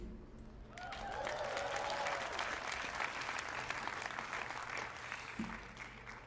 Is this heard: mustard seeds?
no